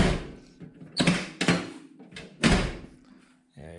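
The door of a Datsun 521 pickup truck with new rubber seals is pushed shut twice, giving two dull thumps with a short rattle between them, close and moderately loud, followed by a lighter knock.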